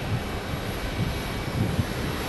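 Steady low rumble of a Boeing 737-800 jet landing hard at Phoenix Sky Harbor, a continuous broadband engine and airframe roar with no voices.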